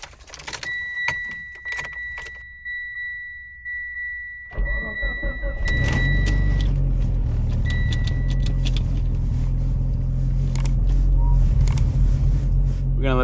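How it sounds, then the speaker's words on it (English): Cold start of a Mitsubishi Evo X tuned past 500 horsepower: keys rattle and electronic chimes sound, then the engine cranks and catches into a loud, steady idle that continues close by, with someone talking briefly early on. "Quick cold start for you guys."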